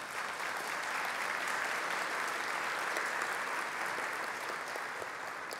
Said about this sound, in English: So a round of applause for the center.